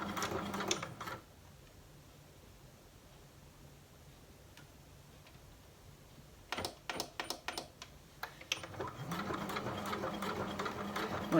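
A sewing machine stitches jersey fabric with a stretch stitch in two bursts, first a brief run, then a quiet pause broken by a few clicks, then a longer steady whirring run of rapid ticking stitches.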